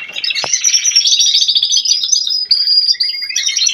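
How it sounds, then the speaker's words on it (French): Canaries fill the space: a male sings a loud, continuous, rapid warbling song of bright trills and chirps, with female canaries giving calls nearby. One short sharp click sounds early on. "ce chant de mâle canari puissant va exciter les femelles, donc elles vont lancer des appels"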